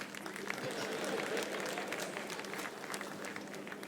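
Audience applause at a Nigerian stand-up comedy show: steady, dense clapping from a crowd, loud and continuous, with mixed voices underneath.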